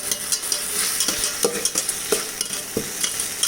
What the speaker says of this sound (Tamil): நல்லா கிண்டி விட்டுக்கணும்